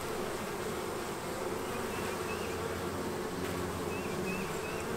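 Honeybees flying in and out of healthy garden beehives on a sunny day, a steady dense buzzing swarm hum that stays even and close throughout, with no talking.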